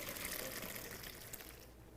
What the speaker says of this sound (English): We start by cooking some pasta shells and draining them really well.